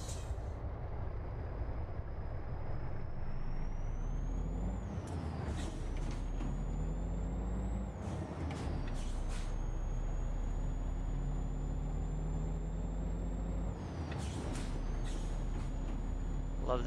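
Heavy truck in American Truck Simulator, engine droning steadily with a rising whine as revs climb, broken by clunky gear shifts near five, eight and fourteen seconds, with air brake hisses and clatter over the constant low rumble.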